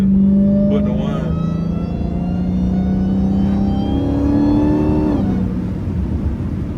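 An 800hp Hellcat pulls hard, its engine whine rising in steady harmonic sweeps over a constant drone, with a brief drop and shift near the end.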